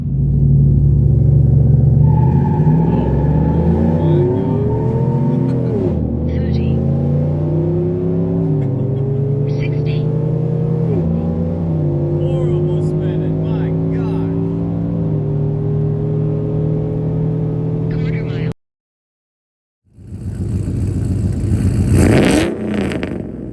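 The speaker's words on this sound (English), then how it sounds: "After that horrible launch in two-wheel drive, let's see how she'll do in four-wheel." A modified 5.3 V8 pickup truck launches and accelerates hard, its loud engine roaring and climbing through several gear shifts with rising and dropping pitch, then a brief silence before the engine returns loudly.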